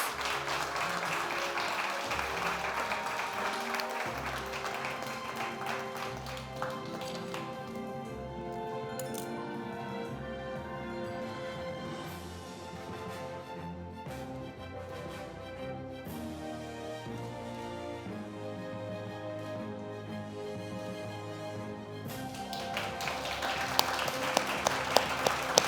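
An audience at a food awards ceremony in Jamaica applauds steadily for the nominees, a sustained wash of clapping that dips through the middle and swells again toward the end, with music underneath.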